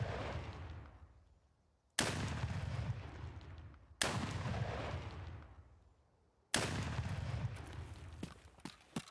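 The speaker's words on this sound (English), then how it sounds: "It's the scav shooting me." Gunfire from a scav in Escape from Tarkov: four loud, sharp shots spaced about two seconds apart, each with a long rolling echo that fades before the next, plus faint clicks near the end.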